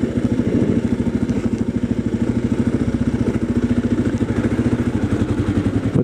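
A motorcycle engine churns hard through rutted ground in a field, a loud, close, rhythmic chugging pulse that stays steady throughout with no talk.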